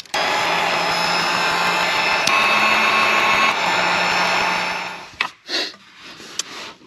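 A heat gun blows steadily on heat-shrink tubing over radar detector wiring in an Audi R8, a loud, continuous whooshing roar lasting about five seconds that cuts off into a few short thumps.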